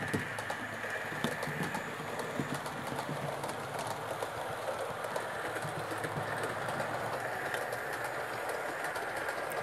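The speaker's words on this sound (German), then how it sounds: "Und der ICE 2 passiert den Spielplatz." An ICE 2 high-speed train rumbles past at a distance with a steady rolling drone and faint rhythmic clicks from the wheels on the track.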